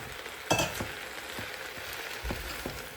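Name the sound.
stirring food in a pan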